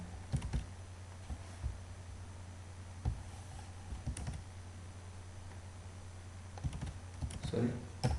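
Computer keyboard typing at a desk, scattered soft clicks and keystroke bursts with a few louder taps, faint and close, low room hum underneath.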